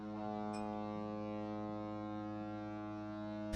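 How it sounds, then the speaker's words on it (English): A deep foghorn blast sounds as an alert effect on a livestream, one long, steady, droning tone that holds throughout at moderate volume and is heard on its own. "See? You got the big old horn going off."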